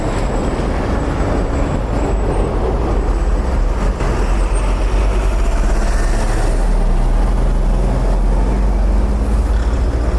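Constant loud traffic rumble at a town crossroads near a courthouse, vehicles coming from either side, with heavy engine drone and passing-vehicle swells throughout and no one speaking.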